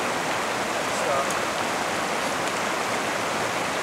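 Creek water rushes steadily over rocks at a stream crossing, a continuous broadband wash that stays loud and even throughout with no clear voices.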